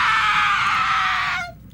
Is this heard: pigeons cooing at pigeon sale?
no